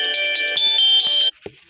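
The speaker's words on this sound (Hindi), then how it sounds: "फ़ोन आ गया।" A phone ringtone plays loudly as a bright, steady electronic melody of sustained tones for over a second, then cuts off abruptly, leaving a faint room background with a brief knock.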